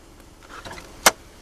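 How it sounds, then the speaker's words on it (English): A 2005 BMW 330Ci convertible has its hood and trunk released, with a soft mechanical shuffle followed by one sharp, close latch click. "Go ahead and pop the hood. I'll pop the trunk while I'm at it too"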